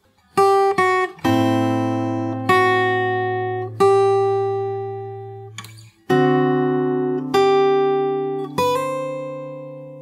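A fingerstyle acoustic guitar plays the short pre-chorus of a song, with a few plucked notes ringing over sustained low bass notes in a slow, gentle pattern, with no talking.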